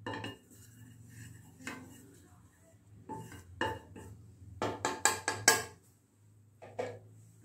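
A thick-bottomed cooking vessel is handled and set down, giving a series of clanking metal knocks that bunch into a rapid cluster near the end, over a low steady hum with no talk.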